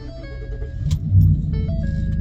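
A car engine fitted with a MagnaFlow exhaust cranks and catches, settling into a steady low rumble with a brief jangle of keys near the start.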